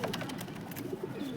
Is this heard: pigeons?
yes